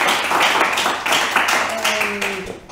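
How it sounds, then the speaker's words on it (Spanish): Audience applause after a history lecture, a loud, close, steady patter of clapping that tapers off at the end, with a voice speaking briefly through it. "Ahora el aplauso que no tuvimos antes."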